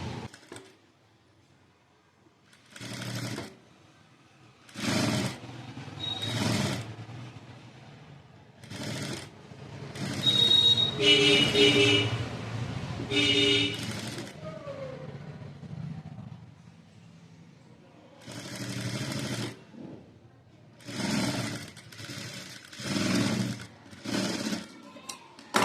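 A sewing machine stitches a princess cut blouse in repeated bursts of rapid whirring, each a second or two long, separated by short pauses, close and fairly quiet with no talk.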